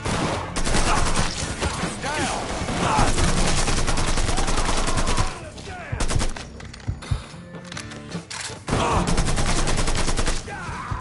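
Dense, rapid gunfire from the video game Mafia 3 crackles almost nonstop in loud bursts of automatic fire, briefly thinning midway before resuming, with shouted voices in the mix.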